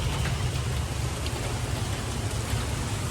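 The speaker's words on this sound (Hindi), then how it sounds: "गाइस, बारिश रुकने का नाम नहीं लेती है" Heavy rain pours down steadily in Vietnam, a loud, dense hiss of drops striking surfaces that stays even from start to finish with no voices.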